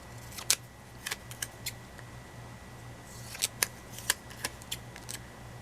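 Scissors snip through paper in quick, close, crisp cuts, arriving in two short bursts of several snips each over a faint steady hum.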